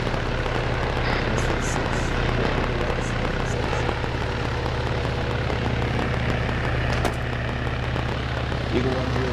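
A helicopter in a military video game keeps up a steady, loud rotor and engine drone the whole time, with radio chatter and voices faintly over it.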